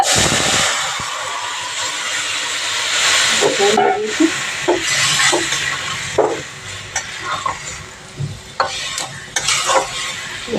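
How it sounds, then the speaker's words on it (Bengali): Garlic frying in a pan sizzles and hisses loudly and close, with a spoon scraping and stirring through it in uneven strokes that grow more broken and clattery toward the end, and no talking. "এটা একটু লাল লাল করে ভাজি করবো রসুনগুলো"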